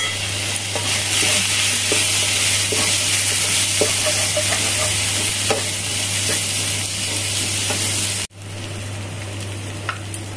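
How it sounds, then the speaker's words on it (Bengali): Spice masala with onion and tomato fries in a pan, making a loud, steady sizzle with scattered stirring clicks until it cuts off abruptly near the end. "মশলাটা আমার ভাজা হয়ে গেছে, লাস্ট আমি টমেটোটা দিয়ে দিলাম"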